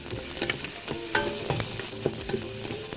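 Onions and coriander frying in a pan while being stirred, a constant close sizzle broken by quick rhythmic scrapes and taps of the spoon against the pan.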